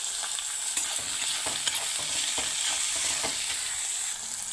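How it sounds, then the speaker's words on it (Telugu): Onions and green chilli pieces fry in hot oil in a pan, a steady close sizzle with occasional stirring scrapes, with no talking. "ఇదిగోండి ఉల్లిపాయలు వేగిపోయాయి."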